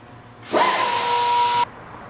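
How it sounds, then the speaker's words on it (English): An air-powered die grinder fitted with a carbide bit grinds away material on a welding hood, a loud steady high-pitched whine lasting about a second, starting and stopping abruptly with no talk over it. "we're just going to take another air tool, standard die grinder with a carbide bit, and just grind away what we need to make it fit."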